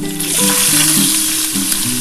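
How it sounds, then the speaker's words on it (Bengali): Chopped onions hit hot oil for a potol posto dish, producing a loud, dense, continuous sizzle that stays even and close throughout the short stretch. "আমি দুখানা পেঁয়াজ কুচো করে ভাজব"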